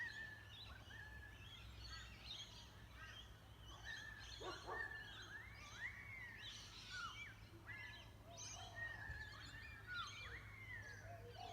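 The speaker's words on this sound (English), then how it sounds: "Isn't that an amazing sound? I don't know what bird." Varied, warbling bird calls ring out repeatedly outdoors, bright swooping notes rising and falling over a steady low background hum, moderately distant with no talking.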